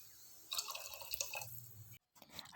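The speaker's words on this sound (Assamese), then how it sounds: "এতিয়া মই ইয়াতে পানী দি দিছোঁ অলপ ভজাৰ পাছত।" Water splashes and trickles briefly into a cooking pan of vegetable pulao, a short, close, gentle liquid burst that fades into quiet.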